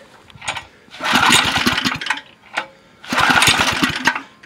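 Small go-kart engine after a no-compression repair being pull-started, two bursts of rough sputtering engine chugging, each about a second long, preceded by brief pull sounds, loud and close with no talking.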